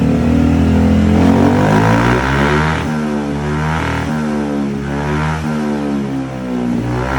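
A remapped scooter with a full exhaust system revs loudly and continuously up close, its engine note rising and falling through several throttle blips over steady idle, with no talk.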